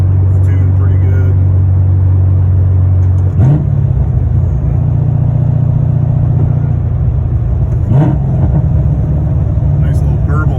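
A C6 Corvette with a heads/cam LS3 V8 cruises along with a steady low burble that holds throughout, swelling briefly about twice as the engine shifts pitch.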